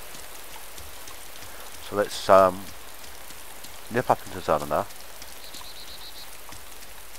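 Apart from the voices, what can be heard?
rain falling in video game DayZ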